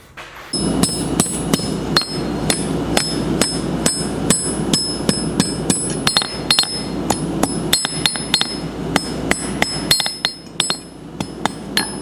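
A hammer strikes a hot steel scroll again and again in a brisk, uneven rhythm, each blow ringing out sharply and close by.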